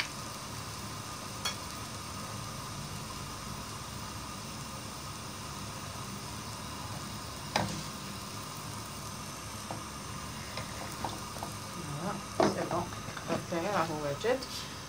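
Kabyle khfef beignets (sfenj) dough frying in a pan filled with oil, producing a continuous even sizzle with a few sharp pops, and a voice speaking briefly over it near the end.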